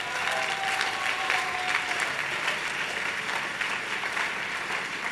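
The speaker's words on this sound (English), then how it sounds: "Are you clapping or you are doing something like clapping?" A church congregation clapping in a large room, a steady wash of applause that holds at an even level the whole time, with no voice over it.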